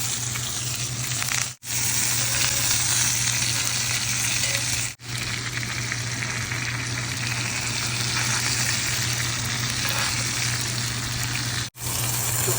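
Curry leaves hit hot oil in a pan and set off a loud, dense, continuous sizzle that keeps its level throughout, close up, with a couple of brief dropouts.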